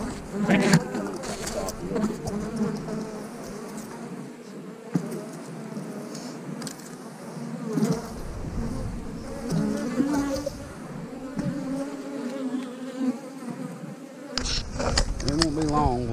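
Dense, continuous buzzing of many honey bees close by, a steady droning hum with brief rustles and knocks, no talking.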